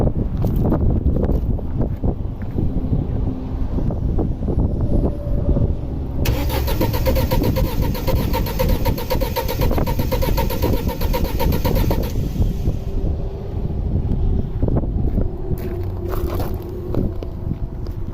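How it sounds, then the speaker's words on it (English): A 2006 Audi A4 2.0T with a misfire cranks and runs, a loud close engine drone with a rough mid-range rumble and wind buffeting the microphone, and nobody talks. "I'm gonna crank it again."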